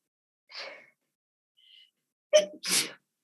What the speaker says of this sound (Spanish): tengo ganas de estornudar, perdón